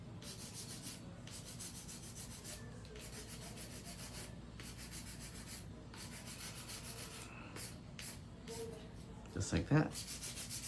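Hand filing on acrylic nails makes a steady, close scraping rasp in quick back-and-forth strokes, continuous throughout, with a brief louder clatter near the end and a short spoken remark.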